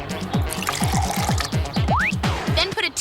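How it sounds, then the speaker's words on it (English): Vinegar pours into a half cup of water with a steady gurgling glug, close and fairly loud, the liquid filling the container continuously for a few seconds. "Just add a half a cup of vinegar to a half a cup of water."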